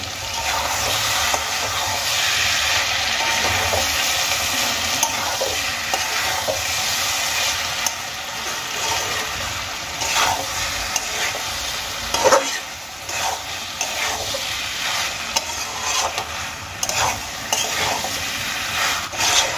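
Brinjal being stirred with potatoes and spices in a pan for begun aloo jhal gives a sustained loud sizzle layered with repeated scraping and clattering spatula strokes, close and rhythmic, no voices.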